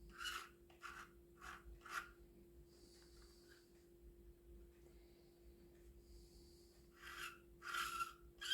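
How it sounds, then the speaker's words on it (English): Light hand sanding along the top edge of an HMS Queen Elizabeth model ship: quiet, short rasping strokes in small bursts, with faint pauses between them and a steady low hum underneath. "we need to prepare the top edge and just give her a light sand"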